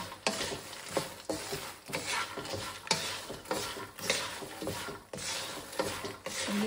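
Makhana namkeen being stirred in a pan with ghee and rock salt, a steady run of dry scraping and rattling strokes that repeat every second or so, close and fairly loud, with no talking.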